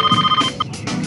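A cell phone rings in the My Scene CD-ROM game from 2003, a short electronic ringtone with bright repeating tones, loud and close, with no talking.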